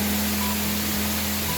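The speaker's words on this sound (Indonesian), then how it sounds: "Nah, air terjun Bidadari induknya adalah di sini." Bidadari waterfall in Panggungrejo, Blitar, a three-tiered cascade heard as a steady, broad rushing hiss of falling water, constant and fairly loud, with a faint low hum underneath.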